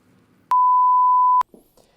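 A phone gives a single loud, steady electronic beep lasting about a second inside the cab of a new Kenworth T680 truck, with faint background noise before and after.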